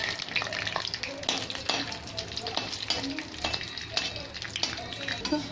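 Cashews, almonds and raisins fry in hot ghee in a kadhai, a steady close sizzle with frequent sharp clinks and scrapes of a spoon stirring against the metal pan throughout.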